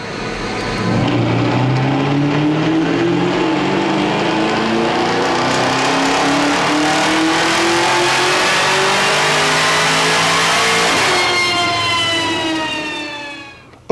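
A 2021 LT1 Camaro fitted with a Procharger supercharger runs on a dyno, its engine revving steadily upward in a long loud pull with rising whine, then dropping off briefly near the end before cutting out.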